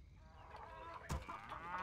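Chickens clucking in a WarCraft 3 game, a soft murmur of fowl sounds under a steady hum of game ambience with one brief louder thud, quiet throughout and no talking.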